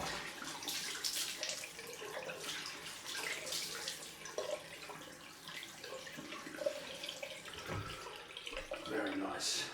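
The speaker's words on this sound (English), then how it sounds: "Time for a cold rinse." Tap water runs steadily into a sink for a cold rinse after a wet shave, a continuous splashing hiss with small level swells, moderately close, with a few brief voice sounds mixed in.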